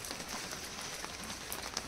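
Steady rain pattering on surfaces outdoors in a village setting, a dense continuous hiss with scattered drop ticks, heard alone with no voices.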